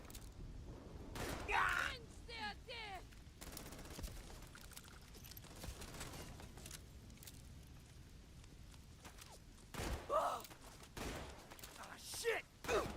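A mech firing its guns in the game Starfield, with bursts of gunfire, mechanical footsteps and clanks in the middle distance, quiet overall, with a brief pause as the weapon reloads.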